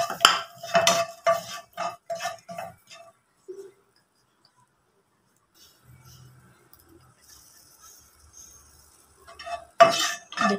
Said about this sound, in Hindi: हरी मिर्च भी भून लेते हैं।